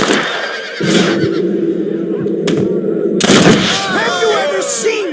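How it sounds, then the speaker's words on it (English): Gunshots fired at a hat in the Red Dead Redemption western video game, sharp loud cracks against horse whinnies and a busy outdoor scene, with voices talking. "Get ready to shoot that hat."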